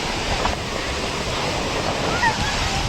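Ocean surf washes steadily onto a black sand beach at Bhatye, Ratnagiri, a dense continuous roar with wind buffeting the microphone, loud and close, with faint voices mixed in.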